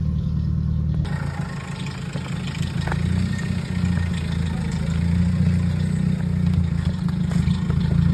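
A noisy Nissan B13 engine idles close by with a steady low rumble and a faint mechanical clatter that carries on unbroken, with no voices over it.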